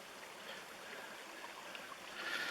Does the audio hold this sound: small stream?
yes